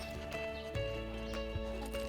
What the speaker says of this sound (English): Just a nice horse and very alert.